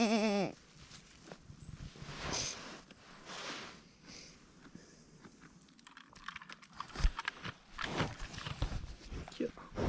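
Goats bleat near and far while being herded in rural eastern Norway, their wavering calls rising over footsteps and rustling, with people talking and calling throughout.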